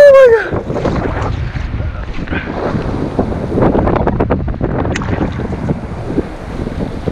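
Strong wind buffets the microphone on a fishing boat chasing striped bass, a loud rumbling gust that carries on under excited speech and water splashes.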